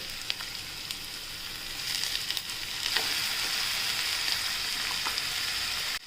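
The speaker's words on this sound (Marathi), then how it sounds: "आता आपण याच्यात टोमॅटो टाकूया" Tomatoes go into a pan of garlic cluster beans frying in oil, raising a steady hissing sizzle that grows slightly louder midway, with a few faint ticks and crackles, then cuts off abruptly at the end.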